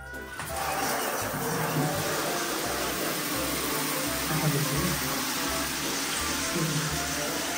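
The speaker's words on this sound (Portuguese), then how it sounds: "Enche um pouquinho de água quente." Hot water runs steadily from a tap into a container, a continuous broadband rush of splashing that fills the whole stretch, with low clunks and soft bumps underneath and no talking.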